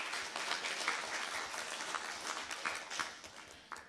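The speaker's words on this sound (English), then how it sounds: "A round of applause for them." Audience applause for a team at a conference session, a steady patter of many hands clapping, faint and somewhat distant, lasting several seconds with no voices over it.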